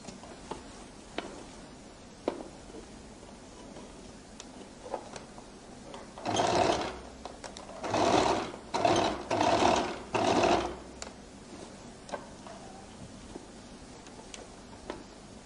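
A sewing machine stitching a flared skirt runs in several short bursts of steady whirring, close and clear, separated by pauses with faint ticks.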